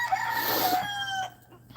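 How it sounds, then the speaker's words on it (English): Mixed-breed backyard chickens, hens and roosters, cluck and crow in a farm setting, with a drawn-out crow that fades off into quieter background sound. "We do have some pretty chickens."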